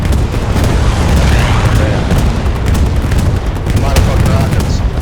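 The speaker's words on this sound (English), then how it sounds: "Rocket!" A rocket explosion in a video game tank battle booms amid continuous loud gunfire and rumbling blasts, with players' voices shouting over the dense combat noise.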